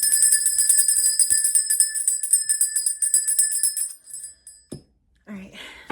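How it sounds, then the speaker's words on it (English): A small hand bell rings loudly and close with bright, shimmering tones for about four seconds, then fades out, followed by brief speech. "Let me ring this bell again."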